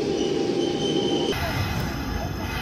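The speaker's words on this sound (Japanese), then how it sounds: "3本目の臨時特急用の送り込み回送電車がやってきました。 阪神電車の8000系が利用されております。" A Hanshin Railway 8000 series out-of-service train rolls into a station with a loud, steady rumble of wheels and motors and a sustained high whine, with no talk.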